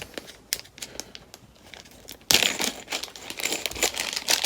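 Plastic packaging crinkles and tears as board game pieces are unwrapped, soft scattered rustles at first, then a sudden louder, continuous crackling burst close by.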